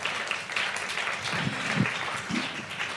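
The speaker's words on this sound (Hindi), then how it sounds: "एक बार जोरदार तालियों से स्वागत कर दीजिए" Applause from a studio audience welcomes a guest to a live Hindi news interview, a moderate, fairly quiet patter of clapping running throughout with a few louder bursts.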